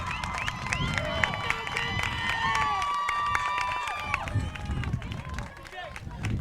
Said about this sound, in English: you can hear the home crowd of Chapman at the Darrell Beamer Sports Complex gaining some life